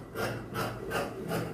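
A tailor cuts shirt pocket cloth with four even, rhythmic swishing strokes, close and soft, with nothing else around them.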